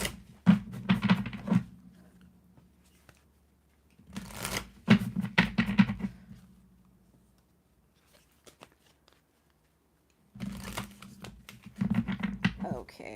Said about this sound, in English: That's a better shuffle.